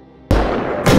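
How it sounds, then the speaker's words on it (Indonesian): Gunshot in an action film: one loud, abrupt broadband crack bursts out of near silence and rings on with a sustained blast, followed by a second sharp report near the end. "Tiba-tiba terdengar suara tembakan."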